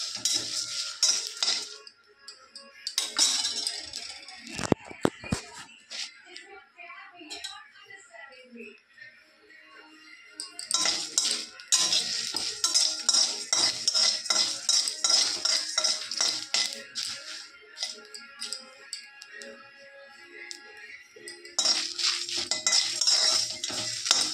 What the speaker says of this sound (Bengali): এবার এটাকে শুকনো শুকনো করে ভেজে নেব হাত খোলায়।